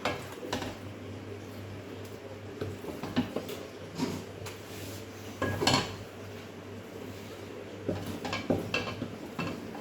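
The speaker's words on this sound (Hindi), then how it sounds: "अब हम इसको डिश आउट करेंगे।" Metal spoon scraping and clinking against a pot and dish as cooked sarson ka saag, tempered with desi ghee, is served out in a kitchen; repeated close clatters and scrapes in irregular bursts over a steady background hum.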